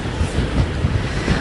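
Hurricane-force wind gusts of Hurricane Sandy batter the shore at Atlantic City, New Jersey, a dense, steady roaring rumble of wind buffeting the microphone with no voices.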